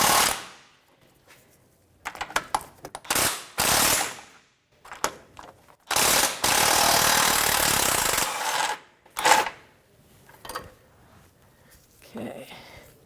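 Wrench work on the rack and pinion lock nut of a 1990s Toyota Camry, a series of loud, harsh metallic ratcheting and clanking bursts with short pauses between them, close by and without talk.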